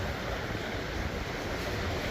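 Hurricane Melissa waves crash on the coastline of St. Mary, a dense, continuous roar of surf mixed with heavy wind buffeting, loud and unbroken.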